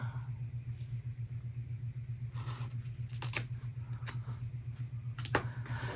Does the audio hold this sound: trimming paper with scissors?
yes